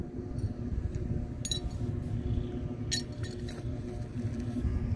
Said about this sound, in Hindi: यहाँ पर कांच सारे पड़े हुए हैं, वो हम ले लेते हैं